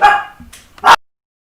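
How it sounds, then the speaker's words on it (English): A dog barks indoors: two or three sharp, close barks in quick succession, the last one loud, then silence. "I'm just going to mute you for a second because Chip's barking"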